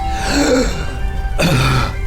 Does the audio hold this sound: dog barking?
no